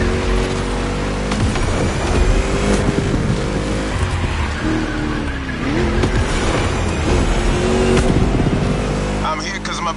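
Car engine driving in the racing video game The Crew Motorfest, a steady loud drone with shifting engine pitch and occasional tire noise under a busy game mix throughout.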